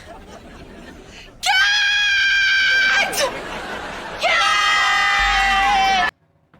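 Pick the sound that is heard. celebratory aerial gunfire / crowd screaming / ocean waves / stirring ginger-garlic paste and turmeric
crowd screaming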